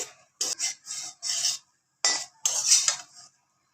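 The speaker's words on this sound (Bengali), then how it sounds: "এখন আমি একটু উল্টো পাল্টা করে ভেজে নিচ্ছি" A spatula rasps and scrapes across a pan in short separate strokes, clear and close, while paper pitha is flipped and fried. Quiet gaps fall between the scrapes.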